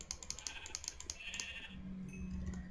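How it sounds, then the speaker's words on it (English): A sheep bleats in the video game Minecraft as it is spawned, a drawn-out synthetic bleat heard after a run of quick computer keyboard clicks, both fairly close and moderately loud. "Let me spawn a sheep here."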